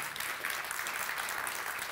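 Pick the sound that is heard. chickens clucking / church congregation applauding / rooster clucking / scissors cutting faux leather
church congregation applauding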